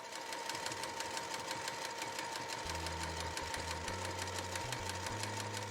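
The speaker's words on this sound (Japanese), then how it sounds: "段付き押さえに変えて縫っています。" A sewing machine with a step presser foot stitches fur fabric for a round tote bag. It gives a steady, rapid needle chatter at low volume, and a low humming drone joins in partway through.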